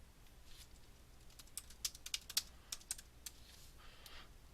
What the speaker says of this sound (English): I can type in my comment.